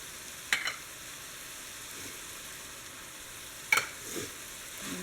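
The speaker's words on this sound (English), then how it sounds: "I'm just going to mix that in." Canned corn and green chilies are stirred into cooked ground beef, giving two sharp scraping clinks of a utensil against the pan over a faint, steady sizzle, with soft shuffling in between.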